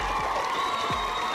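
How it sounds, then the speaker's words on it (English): A noisy studio audience at a television game show cheers and whoops in a steady, dense wash of crowd noise, with individual shouts rising out of it throughout. "this is one noisy crowd"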